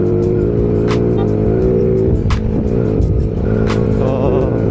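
A Yamaha Sniper 135 motorcycle engine on a test ride, a loud, close, continuous drone with fluttering revs and brief surges as the throttle shifts, heard without talk.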